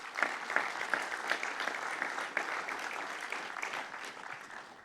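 Applause from a forum audience at the opening session of a city conference in Marseille, a dense, steady wash of many hands clapping at moderate distance, sustained for about five seconds without voices.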